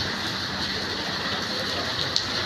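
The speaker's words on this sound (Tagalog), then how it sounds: "Ayan o, lakas ng ulan." Heavy rain pours steadily outside a shop on the way to work, a dense, even hiss of drops hitting the ground that holds constant and fairly loud throughout, with no voices over it.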